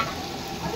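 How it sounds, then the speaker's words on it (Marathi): Spices tempering in hot oil after onions have softened, a steady close crackling sizzle with faint stirring, continuous and fairly loud with no talk. "खमंग फोडणी."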